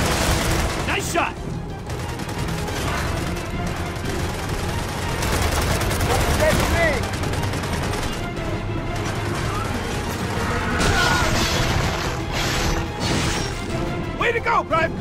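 Dense gunfire and explosions rattle through a battle in the video game Gears of War 4. Sustained shots and crashes continue throughout, with voices talking over the combat.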